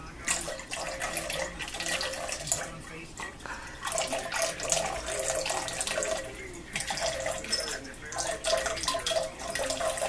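Water runs steadily from the spigot of a pet drinking fountain while a cat licks at it. It is a continuous close trickle and splash with a person talking over it.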